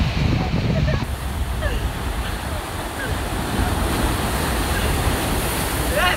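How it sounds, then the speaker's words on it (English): Small ocean waves wash steadily onto the shore at Honopue, a continuous rushing surf with wind noise against the microphone, fairly loud and unbroken throughout. "Good thing the waves are small."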